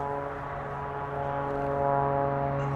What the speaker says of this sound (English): There's an airplane above me and it's really loud.